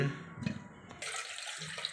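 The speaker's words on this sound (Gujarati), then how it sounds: "પાણી રેડી દીધું છે।" Water pours into a pot holding washed potatoes for boiling, about a second of short splashing rush that follows a few soft clinks and knocks.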